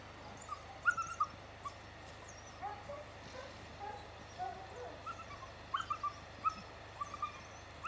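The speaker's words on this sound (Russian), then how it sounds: "Щенки!" Puppies out on a walk give scattered short whimpers and yips, faint and somewhat distant, repeating irregularly over a low steady background hum.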